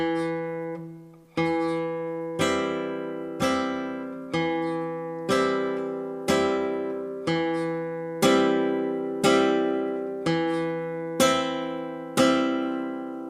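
Guitar chord for Granadinas strummed again and again, about a dozen ringing strikes at an even pace, each decaying before the next, played alone up close.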